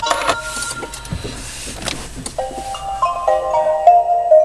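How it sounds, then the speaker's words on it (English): A 2013 Nissan Leaf electric car switches on with a click and a brief whir, then a soft electronic chime rings in steady tones, close by, with no talking. "I've just turned the car on"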